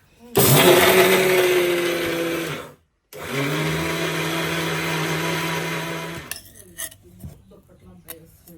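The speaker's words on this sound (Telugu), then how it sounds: "ఇంకా మొత్తం కూడా మిక్సీ పట్టేసుకున్నాం కదా" A kitchen mixer grinder grinds sesame seeds and jaggery in two loud whirring bursts separated by a short pause, followed by softer clinking and rattling.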